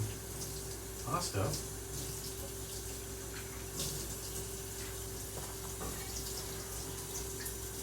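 Tap water runs steadily into a pot being filled for pasta, a continuous rushing wash that carries on throughout while someone talks briefly over it.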